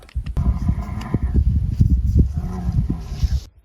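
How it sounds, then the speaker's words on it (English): A cow on a mountainside in Croatia moos in a long, loud, drawn-out low call that lasts about three seconds, heard close by in open outdoor air. "It's a cow."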